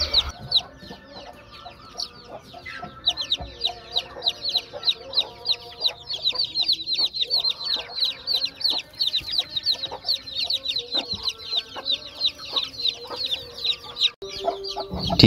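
A hen clucks repeatedly nearby while many newly hatched chicks peep constantly in the background, with occasional shuffling and knocks.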